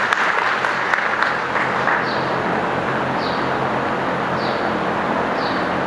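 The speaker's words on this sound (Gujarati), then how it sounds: "આપણે તાળીઓના નાદથી એમને વધારીએ." An audience at a devotional gathering applauds in a steady, dense patter of clapping that continues throughout, with faint chirps in the background.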